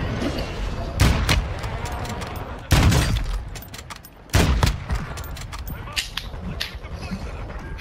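Gunfire crackles in a shooter video game on Ashika Island, with three loud nearby bursts spaced a couple of seconds apart and lighter scattered shots between them over a constant game background.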